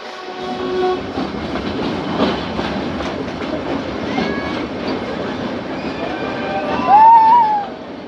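Steady rumbling noise of the Ooty heritage toy train departing, with rhythmic rail clatter, a horn-like tone sounding briefly near the end; the train is underway and close.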